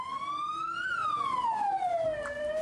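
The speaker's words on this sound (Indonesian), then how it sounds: "ketiga jenazah korban keracunan tiba dengan menggunakan mobil ambulans dari Rumah Sakit Polri Jakarta" An ambulance siren on a Jakarta street wails in one long continuous sweep, rising and then falling in pitch, steady and fairly close over low traffic rumble with no talk.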